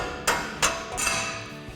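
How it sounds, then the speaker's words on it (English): A hammer taps a strut bolt during a suspension lift install on a 2021-2024 Ford Bronco: three sharp metallic knocks roughly a third of a second apart, close and loud, with a faint ringing tail. "you can tap it with a hammer a couple times"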